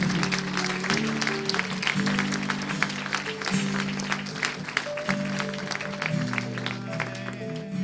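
Church congregation applauding, a dense continuous clapping heard under sustained music and a steady musical tone.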